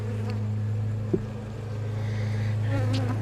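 Honeybees buzz steadily and close on a comb during a hive inspection, a continuous drone with a brief knock partway through.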